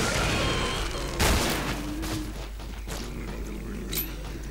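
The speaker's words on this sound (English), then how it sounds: "this flare revolver is overkill. I shot once and everything goes on fire" Flare revolver shots ring out in the video game Killing Floor: one sharp, loud blast followed by a few lighter bangs over a constant background rumble.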